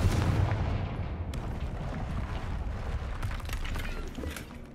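A Confringo spell blast in the Hogwarts Legacy video game gives a loud, sustained fiery roar and rumble that fills the clip, with crackling debris and no speech.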